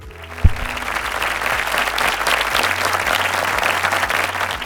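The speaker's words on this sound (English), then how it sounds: "Let's give a huge round of applause to Mr. Kunal Nandwani." An audience at a stage event breaks into sustained, dense applause welcoming a speaker, loud and even for several seconds, with a brief thump near the start.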